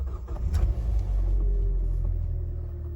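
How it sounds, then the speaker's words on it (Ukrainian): A Voleex C30 car, a Toyota Corolla copy, starts up after sitting unused for three weeks, a short cranking burst followed by a steady low engine rumble at idle. "Треба машинку запустити, бо вона вже три тижні не запускалася."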